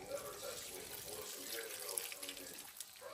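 Water is poured from a tap into a cooking pot while salt and cloves are being added, a steady hissing splash throughout that is fairly close, with someone talking over it.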